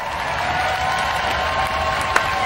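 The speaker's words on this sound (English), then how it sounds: "A round of applause for Steg 2." Robot Wars studio audience applauding steadily, a dense wash of clapping from a crowd filling the room at even volume throughout, with no talking over it.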